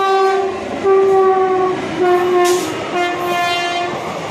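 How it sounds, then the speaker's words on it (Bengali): The Nabadwip Dham express passes a station platform. A loud horn sounds in long, repeated blasts over the rumble of the train nearby, with no voices. "ওই দেখো আসছে আর একটা, দেখো এটা নবদ্বীপ ধাম ছেড়ে আসছে"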